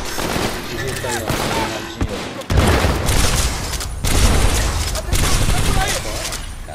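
Gunfire in the Xbox One game Titanfall 2, loud sustained automatic bursts and booms in several heavy waves, dense and close throughout with speech faintly underneath.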